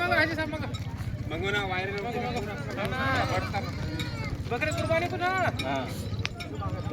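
Goats bleat repeatedly at a busy goat market in Borda, calls rising over a steady crowd murmur and near speech throughout.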